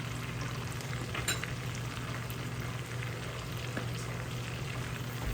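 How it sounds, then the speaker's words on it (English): Steaks sizzle in a hot cast iron skillet just after being flipped, a dense, even crackling hiss that holds steady throughout with a few sharper pops and no voices. "Let's flip our steaks."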